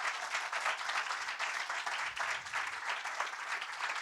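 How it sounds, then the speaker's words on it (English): An audience claps after a conference talk on automating code cleanup, a steady, dense wash of applause from a roomful of people, sustained at even loudness for the whole stretch, with no voices on top. "Big round of applause again for Esther."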